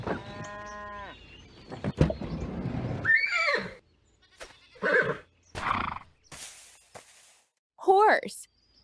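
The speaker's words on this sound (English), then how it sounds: "Horse." A horse on a farm gives a short, wavering neigh near the end, following other scattered animal calls and brief noises.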